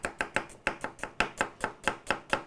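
A knife chops an onion on a board in quick, even strokes, about a dozen sharp close taps in a brisk rhythm with no talking.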